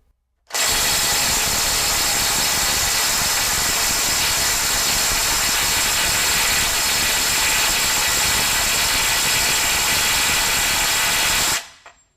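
A RIDGID SubCompact 3/8-inch drive cordless impact wrench hammers hard against a bolt torqued to about 400 foot-pounds, one loud, steady, buzzing rattle running nearly eleven seconds before stopping abruptly.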